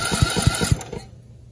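A lawn mower's electric starter, wired straight to a drill battery, cranks the engine in a quick run of about four rhythmic chugs that stop after under a second and then trail off.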